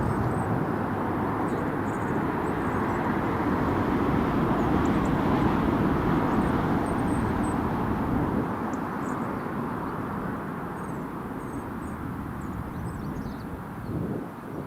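An RAF Airbus A330 departs Newcastle International Airport, a loud, steady jet engine roar that holds and then slowly fades, heard alone without talk.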